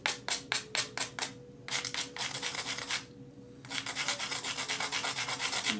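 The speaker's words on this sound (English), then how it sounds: "what I did there, guys, is I just beveled this edge on the other side of that" A file or abrader bevels an edge in short rhythmic strokes, first as distinct rasping passes, then a brief pause, then a denser run of quick scraping, close and clear.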